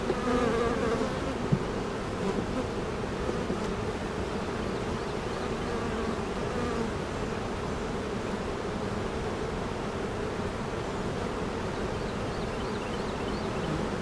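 Honeybees in an open hive during a full early-May inspection, a dense steady buzzing drone from many bees that runs unbroken and fairly loud throughout, with no talking.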